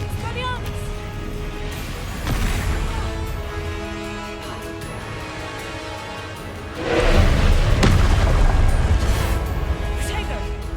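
Spell blasts and explosions from Confringo casting in Hogwarts Legacy, set during a winter dragon rescue, crash and boom in repeated bursts with a heavier surge partway through, layered over game music and effects while a voice calls out spell names.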